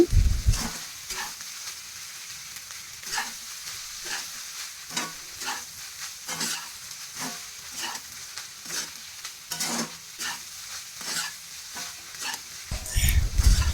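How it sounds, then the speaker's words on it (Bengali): Cooked rice is stirred and fried in a pan for fried rice, with repeated scraping stir strokes in an irregular rhythm over a soft, continuous sizzle, loud thumps at the start and end. "এখন হচ্ছে কিছুক্ষণ নেড়ে চেড়ে ভেজে নিব ভালো মতো"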